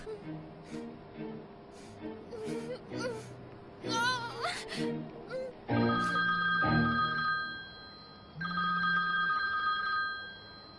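A telephone rings in a home scene from a Tajik drama series, with loud electronic ring bursts repeating in a steady pattern after a stretch of talking and a voice.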